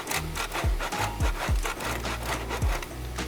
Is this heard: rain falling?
no